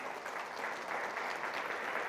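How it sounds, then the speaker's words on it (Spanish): A church congregation claps during a service, a faint, steady patter of applause lasting a couple of seconds with no one speaking. "Dele un aplauso a Jesús."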